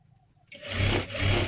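A sewing machine runs a seam along the very edge of a princess blouse panel, starting after a quiet pause with a close, steady, loud motorized whir that holds for about a second.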